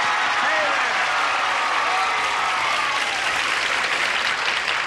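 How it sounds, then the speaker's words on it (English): Sustained, loud applause from a television game show studio audience in 1983, steady clapping filling the whole stretch with a broad wash of sound. "audience, would you join me in welcoming me with a great burst of applause"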